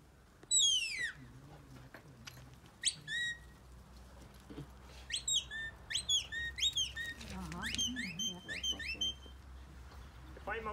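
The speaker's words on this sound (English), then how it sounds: "If the dog is working at a distance, far easier communicate by whistle." Sharp, high shepherd's whistle commands to border collie sheepdogs in short bursts and rapid trilled patterns, repeated at intervals across quiet outdoor ambience on a sheep farm in Ring of Kerry, Ireland, with faint background speech.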